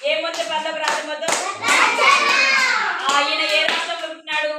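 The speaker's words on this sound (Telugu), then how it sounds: "ఏ క్లాప్ కొట్టండి అమ్మాయికి." Children clap for a girl during a Vacation Bible School programme, a steady patter of many small hands in a room, with young voices talking over the applause.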